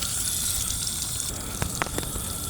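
A continuous stream of water pours and gushes into a cat's bowl, with a few splashy bursts toward the end, close by.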